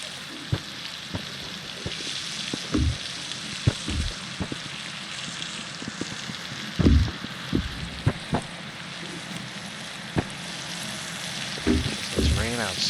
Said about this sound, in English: I don't like the idea that the pot will just sizzle forever